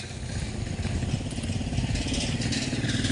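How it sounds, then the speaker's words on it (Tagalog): A motorcycle passing on a dark rural road, its mid-pitched engine chugging loud and close with a rough, pulsing rumble that builds slightly over a few seconds. "Buti na lang may dumaan pang motor"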